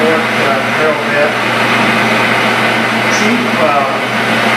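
A tin-coated high-speed steel import drill bit bores into a workpiece on a lathe, giving a steady, loud whirring hum that holds evenly throughout.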